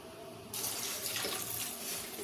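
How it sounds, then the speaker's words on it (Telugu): Water pours steadily into a pot for tomato dal after a brief quiet moment, a close, continuous splashing rush. "దీంట్లో ఇప్పుడు వాటర్ వేసుకోవాలి"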